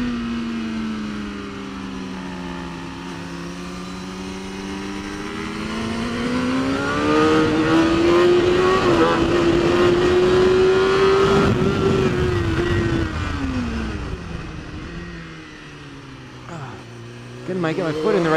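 BMW race car at Mission Raceway, its engine note rising and sweeping as it accelerates hard through gears on track, loud and close from onboard, dipping briefly before climbing again.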